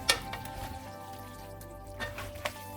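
Creamy shrimp Alfredo is stirred in a pan, a faint low simmer with a few soft spoon scrapes and light taps, quiet and close, no talking.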